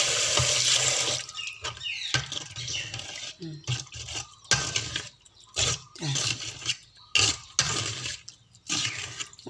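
Sago pearls being rinsed by hand in water for a sweet dessert, with bursts of sloshing and splashing separated by short pauses, close and fairly loud.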